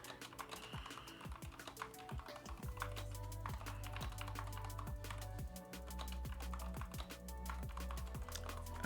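Rapid typing on a computer keyboard, dense quick key clicks close by and fairly quiet, with soft low thumps underneath and no talking.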